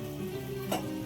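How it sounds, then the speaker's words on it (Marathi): A cauliflower and peas curry simmers in a pan as it starts to come to a boil, making a soft, continuous sizzling bubble over a short stretch. "थोडी थोडी उकळ चालू आली त्याला"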